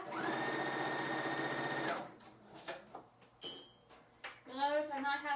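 Domestic sewing machine stitching a one-piece shawl collar across the back of a dress: a steady close mechanical whir for about two seconds, then stops, followed by a few soft handling clicks and a person speaking.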